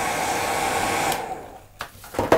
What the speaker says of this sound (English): Just allow the hair dryer to sort of hold it back.